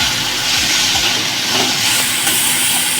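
Spice paste for jackfruit kofta curry fries hard in a pan, making a loud, dense, continuous hiss and sizzle close up, with no talk.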